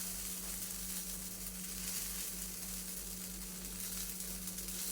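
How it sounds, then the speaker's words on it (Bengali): Sago roti frying in a pan with a little oil gives a steady, even sizzle close by that carries on for the whole stretch, with no one talking over it. "এইভাবে রুটি ভাজাটাই আমার কাছে মনে হয় সুবিধাজনক"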